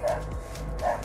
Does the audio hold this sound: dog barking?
yes